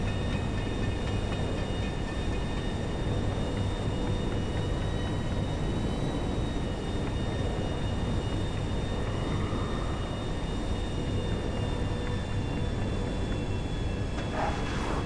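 A plane in GTA 5 gives a steady, droning engine roar with a sustained high whine, holding evenly for about fifteen seconds, moderately loud and unbroken by talk.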